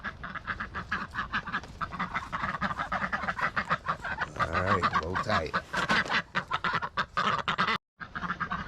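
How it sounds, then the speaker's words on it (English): Ducks quack in a busy, continuous chorus at morning feeding time, close and fairly loud, while a person speaks briefly among them. "Let's get these ducks fed right quick."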